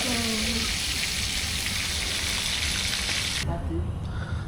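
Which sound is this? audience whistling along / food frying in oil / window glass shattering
food frying in oil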